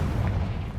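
Hogwarts Legacy's Confringo fire spell detonates in a deep, loud booming blast with a rumbling low end that fills the whole short moment, close and heavy.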